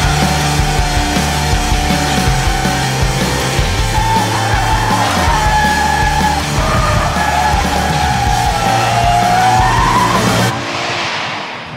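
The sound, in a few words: Toyota GT86 tyres skidding in a drift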